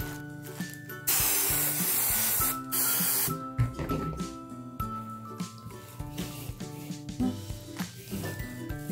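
Spray adhesive hisses from an aerosol can onto a DIY chicken nest in short, loud bursts, separated by quieter rustling and handling sounds.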